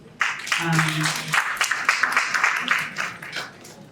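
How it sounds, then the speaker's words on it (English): Audience applause at an awards ceremony at the Bintumani Hotel, a dense wash of many hands clapping close and loud for about four seconds, with a speaking voice briefly heard at the start. "I think he deserves a round of applause"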